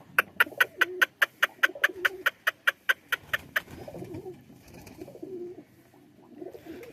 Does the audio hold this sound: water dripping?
no